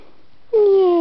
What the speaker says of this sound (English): Yes, she's a good kitty.